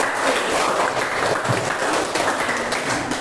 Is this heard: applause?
yes